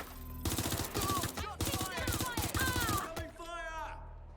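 Gunfire in the video game Watch Dogs Legion rattles out in fast repeated bursts, loud and dense, while a person talks over the shooting, ending with a ringing metallic tail.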